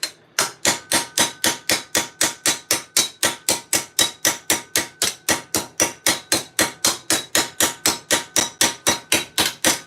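A hand hammer planishes a steel half gauntlet, striking metal about three to four times a second in an even, unbroken rhythm of sharp, loud, ringing blows close by for the whole span.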